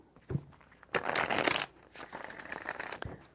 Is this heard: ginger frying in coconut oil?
no